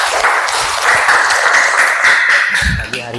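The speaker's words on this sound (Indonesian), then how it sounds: "Ya, tepuk tangan ya." A room of participants in a school class applauds, a brisk wash of many hands clapping close by, with a voice briefly speaking near the end.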